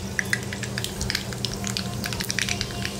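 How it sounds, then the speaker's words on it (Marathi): Mustard seeds crackling and popping in hot oil in a kadhai, a steady fizzing sizzle dotted with sharp, quick pops, close and fairly quiet with no voices. "मोहरी चांगली तडतडू द्यायची आहे"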